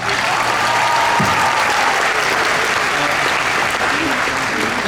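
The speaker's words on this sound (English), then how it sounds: "So another big round of applause." A large audience at a university graduation commencement applauds an award recipient, producing a dense, loud, unbroken wash of clapping across a big hall.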